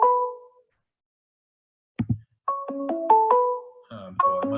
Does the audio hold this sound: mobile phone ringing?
yes